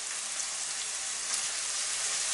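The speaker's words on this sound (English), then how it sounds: "Remember, you need to listen to the sizzle." Ackee and saltfish frying in a hot pan gives a steady, dense sizzle, an even hiss with no breaks, fairly quiet and close, with no voices.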